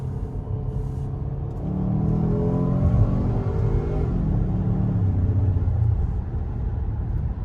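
A twin-turbo car, an Audi S6, accelerates in second gear at around 40 with a rising, rumbling engine note that climbs steadily and holds near and loud.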